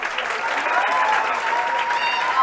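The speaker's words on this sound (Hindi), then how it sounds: "एक बार जोरदार ताली हो" Loud, steady applause from an audience at a coaching institute felicitation event in India, sustained and dense throughout with a faint voice rising over it.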